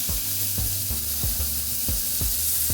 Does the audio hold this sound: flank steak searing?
yes